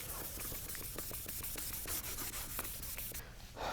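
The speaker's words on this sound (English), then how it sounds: "basically what we're doing is just scrubbing away all the remaining guide coat and scrubbing away all the 800 grit scratches" Wet sanding of boat gel coat with a sanding block to remove guide coat and 800-grit scratches, a close, continuous rhythmic scrubbing with quick repeated strokes and a wet hiss, heard alone.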